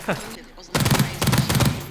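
Suppressed M416 assault rifle firing in a video game, heard as dense rapid bursts after a brief quiet gap, loud and close, with a short sound at the start.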